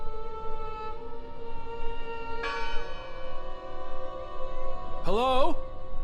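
A church bell tolls inside a video game, its long ringing overtones sustained throughout, with a fresh strike about midway and a brief vocal sound near the end.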